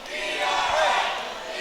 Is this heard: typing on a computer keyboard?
no